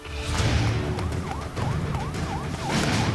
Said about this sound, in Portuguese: Ouvi sirenes em todas as direções.